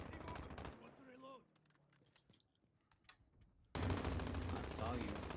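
Sniper gunfire in a multiplayer video game comes through as rapid, crackling bursts of shots, loud at the start and again near the end. A quieter stretch in between holds scattered clicks and a brief voice.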